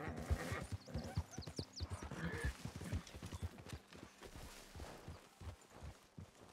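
Horse hooves clip-clopping in the video game Red Dead Redemption 2, with a brief whinny early on; the walking steps patter steadily and fairly close, and a faint voice is heard now and then underneath.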